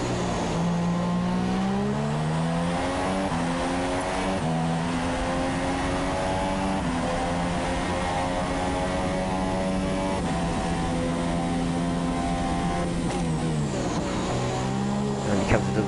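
A Toro Rosso Formula 2 race car at the Malaysian Grand Prix accelerates hard through corners, its high-pitched engine note climbing and dropping with each gear change and braking zone, loud and continuous under a commentator's voice.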